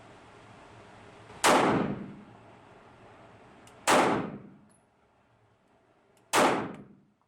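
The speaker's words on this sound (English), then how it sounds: "The CZ75 Compact is a pleasure to shoot." Three loud, sharp 9mm pistol shots from a CZ 75 Compact at a shooting range, evenly spaced about two and a half seconds apart, each a sudden crack trailing into a short decaying echo, with no talking.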